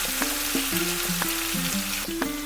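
Potato mixture frying in a pan, giving a continuous dense sizzle with a bright hiss throughout, heard under a stepped melodic tune.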